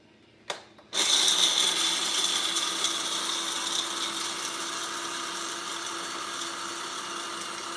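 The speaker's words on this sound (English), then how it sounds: "we're gonna grind the walnuts" An electric grinder chops walnuts for a cheesecake, starting with a click and then holding a loud, steady whir close by that eases off slightly as it keeps running, with no talking.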